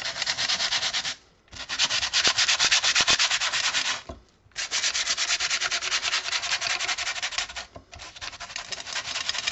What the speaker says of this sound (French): Alors, vous poncez plus ou moins suivant ce que vous voulez obtenir